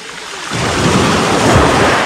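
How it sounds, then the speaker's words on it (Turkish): Sea waves breaking on a rocky fishing shore, a sudden wash of surf that swells in and keeps rushing loudly for a couple of seconds, with wind noise on the microphone. "Dalga da attı."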